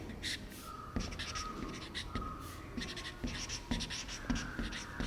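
Chalk or marker scratches across a board during a Class 11 physics lecture, coming in short, close strokes with brief taps and pauses between words being written, fairly quiet in a calm room.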